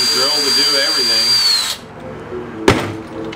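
Power drill running on an amplifier chassis, a loud steady motor whine that winds down and stops partway through, followed by quieter handling and one sharp metallic knock.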